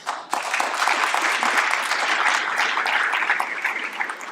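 Sustained applause from an audience at a school district state-of-the-schools event, steady and dense clapping filling the room from start to finish with no talk over it.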